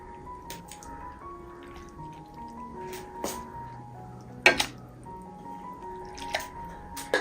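Grated ash gourd and its water tipped into a pan leave scattered wet drips, soft squelches and splats. A few sharper plops land around the middle and near the end against a quiet kitchen background.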